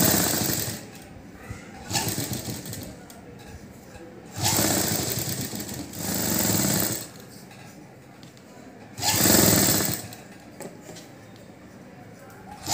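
A domestic sewing machine stitches the lining and main cloth of a blouse together along the body seams, running in several bursts of a few seconds each with quiet gaps between them.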